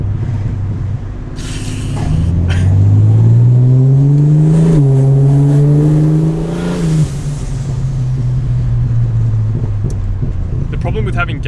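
A 400HP Ford Barra-engined car revs hard and accelerates, its loud engine note sweeping up in pitch and then holding a steady roar close to the listener.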